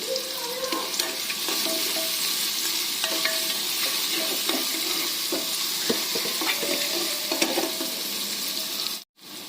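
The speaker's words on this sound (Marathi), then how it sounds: "त्यामध्ये 1 इंच आलं आणि लसूण छानसं परतून घ्यायचं" Onion with ginger and garlic sautéing in a pan, a continuous close sizzle with scattered light scrapes and taps of stirring, ending in a brief drop to near silence.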